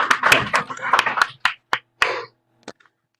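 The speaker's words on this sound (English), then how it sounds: "One clap for everybody. Clap it, everybody." Participants in an online training class clap scattered and uneven: a cluster of overlapping claps, then a few isolated sharp claps spaced apart, ending with a soft faint one, all close and fairly loud.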